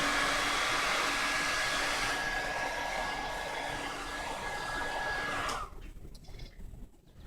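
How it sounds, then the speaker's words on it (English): A hair dryer runs steadily as it dries a glued weave track, a loud, even whirring blow that holds for several seconds and then cuts off suddenly, leaving quiet rustling. "Bring the dryer up. You dry it."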